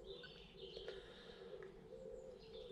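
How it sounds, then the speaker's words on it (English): Birds call and coo outside a church, soft, distant chirps and pigeon-like cooing over a steady outdoor hum, with no talking. "All I could hear was the birds, the damn birds in the background making a lot of noise."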